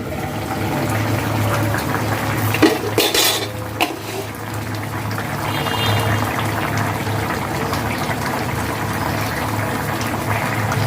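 A metal pan lid is lifted and set down with a short clatter of cookware while rui fish simmers with green banana, over a steady kitchen background hum.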